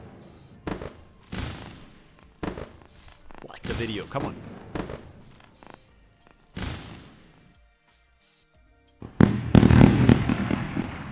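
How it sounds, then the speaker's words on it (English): Fireworks going off: a run of separate booming bursts and pops, ending in a dense, loud crackling barrage, with someone talking between the blasts. "Back-to-back fireworks show."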